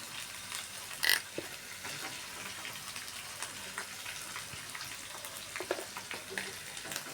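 Spice paste for a chicken curry made with country chicken and coconut milk sizzles and crackles in a frying pan as tomato goes in. The sharp spatters are fairly quiet, with one louder burst near the start and no talking.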